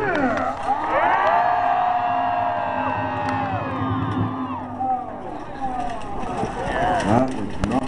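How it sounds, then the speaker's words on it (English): Crowd cheering and whooping at a Renaissance Festival jousting match, a steady roar of many voices rising and falling for several seconds, with shouted tones standing out over the mass of the crowd. "let's hear you cheer!"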